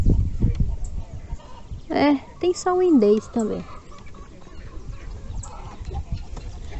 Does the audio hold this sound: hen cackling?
yes